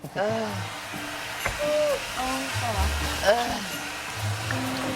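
A hair dryer-style blower runs steadily indoors in a shared house while several people talk and call out over its continuous rushing whoosh.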